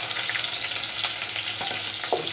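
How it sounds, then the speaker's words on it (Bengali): Onion and garlic fry in soybean oil, giving a dense, steady sizzle with light stirring, close and loud throughout with no talk. "পেঁয়াজ রসুনটা একটু হালকা ভাজা করে নিব।"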